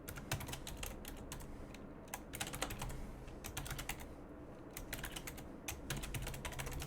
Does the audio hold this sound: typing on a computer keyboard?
yes